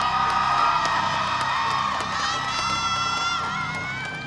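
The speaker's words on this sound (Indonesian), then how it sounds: "Coba saya pengen dengar teriakan pendukung masing-masing suaranya." A large studio audience at an Indonesian TV talent show final cheers, whoops and shouts for their contestants, a loud dense roar of many voices that stays strong throughout and eases slightly toward the end.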